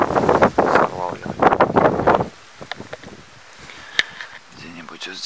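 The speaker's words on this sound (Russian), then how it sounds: "Сами видели, какой ветер." Someone speaks while gusts buffet the microphone in a peach orchard, then low rumbling wind noise and light rustling continue after the voice stops.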